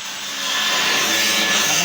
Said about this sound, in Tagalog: maingay na kasi nagsasander po sila